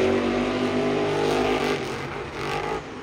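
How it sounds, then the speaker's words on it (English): Monster truck at a Monster Jam event in San Diego, its engine loud and straining continuously with popping and backfire crackles throughout, close and dominant with no talk. "that truck is really straining a lot. Popping, backfiring as it goes."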